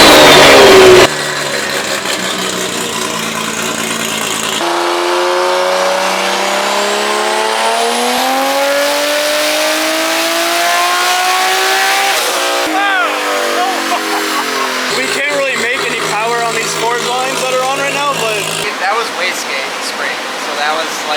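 Toyota Supra on E85 revving through a dyno pull. The engine is loud and close, and its pitch climbs steadily before dropping into choppy blips near the end. Voices talk briefly at the start.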